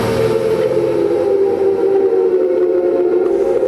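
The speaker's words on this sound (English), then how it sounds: "The sirens went off, that is an awful noise" An air raid siren at the outbreak of World War II wails as a sustained, loud, droning tone with no speech.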